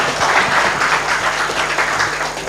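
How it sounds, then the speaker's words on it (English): Steady, full applause from a conference audience, a dense continuous wash of many hands clapping at moderate distance, sustained without pause throughout. "A round of applause for Fiona, please."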